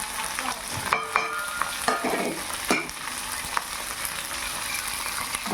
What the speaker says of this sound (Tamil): பச்சை மிளகாயும் சின்ன வெங்காயம் நல்லா வதக்கணும்.